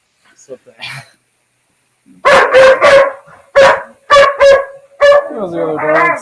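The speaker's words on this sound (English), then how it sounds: "Those are the other dogs." Several dogs bark close by in short bursts of two and three, with faint sounds at the start and a whining, yelping tail at the end; no talk over them.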